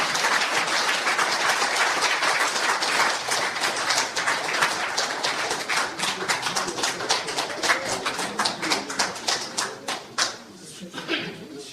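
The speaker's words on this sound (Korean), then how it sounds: "큰 박수를 부탁합니다." An audience at a Korean American association general meeting in LA applauds warmly, dense clapping that stays steady, then thins into scattered claps near the end, with a voice speaking over it.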